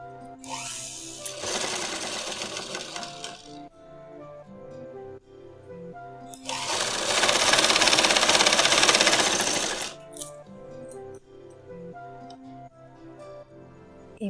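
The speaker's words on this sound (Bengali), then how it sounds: "সুন্দর করে সেলাই করে দেবো। মেশিনে আমি করে দিচ্ছি।" An electric sewing machine stitches a sharara pant in two long bursts of rapid, steady whirring and ticking, separated by quieter pauses with a low hum.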